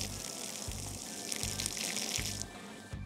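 Water gushing steadily as a water heater is flushed and drained, a constant hissing rush with a brief surge partway through and low periodic thumps underneath.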